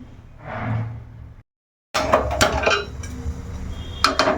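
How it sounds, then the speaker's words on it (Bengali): A pressure cooker is set on the stove with a metallic clunk, after a brief silence, followed by scraping and clattering of pots and utensils close by. "তো এখন প্রেসারটা বসিয়ে দিচ্ছি"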